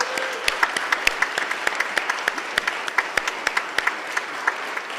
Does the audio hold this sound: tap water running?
no